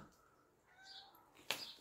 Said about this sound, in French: Je sais pas qui c'est qui miaule.